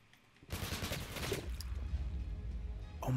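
Rapid MP5 submachine gun fire in the Roblox-style shooter game Jailbird, a sustained burst of sharp, loud shots lasting about a second, followed by trailing impact and ambient game noise.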